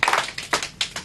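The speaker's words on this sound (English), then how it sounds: "Give him a round of applause." A small audience at a stage hypnosis show claps for a volunteer walking to the front, a short burst of a few distinct, close claps in loose rhythm.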